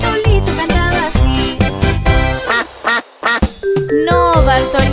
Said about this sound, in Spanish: No, Bartolito, eso es un pato.